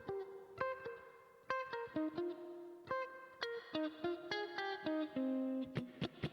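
A Donkey Kong Country tune played on an instrument with reverb and effects, separate plucked or struck notes in a slow, slightly uneven melody, each tone ringing out with a soft echoing tail, fairly quiet and with no voices.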